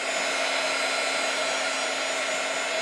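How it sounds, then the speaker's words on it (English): A heat gun blasts steadily as it dries Mod Podge on steampunk mixed-media craft tags, a loud, constant roaring whoosh with a faint whine, close and uninterrupted with no talking. "This heat gun does work pretty quick, though."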